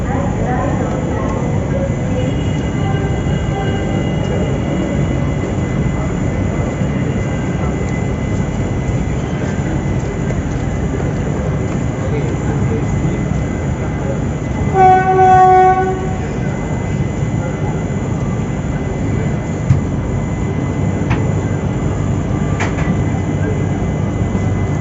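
Inside a 2AC coach of the 16348 Mangalore–Trivandrum Express, a loud, constant rolling rumble of the moving train fills the scene, and a brief horn sounds about midway.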